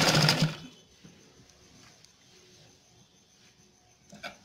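A sewing machine runs in a short, loud burst while stitching hosiery fabric laid over paper, then drops to quiet hum and light clicks.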